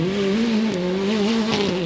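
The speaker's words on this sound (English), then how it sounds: "it was amazing to listen to the gear changes in this car" A Toyota WRC rally car at the Chatsworth rally show accelerates hard nearby, its loud, steady engine note rising and dipping through quick gear changes.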